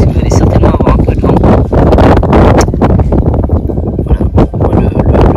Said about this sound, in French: vous allez certainement avoir un peu de vent